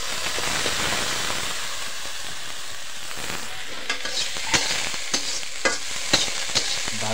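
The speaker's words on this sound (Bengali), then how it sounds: "তো ওখানে আলু ভাজা করতেছি" Potatoes fry in a pan with a steady sizzling hiss, joined later by several sharp stirring clicks and scrapes at irregular intervals, close and moderately loud.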